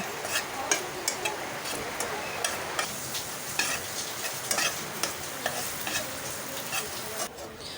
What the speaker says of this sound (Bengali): দিয়ে দিয়েছি পেঁয়াজ দিয়েছি শুকনো মরিচ এগুলোকে একটু ভেজে নেব